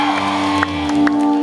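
Crowd at a live outdoor concert celebrating Makassar's anniversary cheers and whoops over sustained music, with scattered shouts rising in brief bursts throughout.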